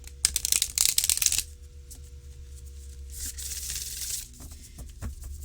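An oracle card deck is shuffled in a quick burst of riffling, followed by softer sliding and rubbing of cards, then another riffle.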